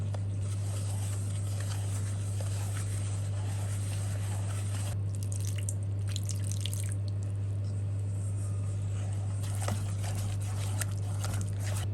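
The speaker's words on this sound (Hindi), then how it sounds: "हम इसको मिक्स करते हुए थोड़ा थोड़ा सा इसमें पानी शामिल करेंगे" Water trickles and drips into cornflour batter as it is stirred by hand, soft irregular wet sounds over a constant low electrical hum, with occasional clinks of the mixing.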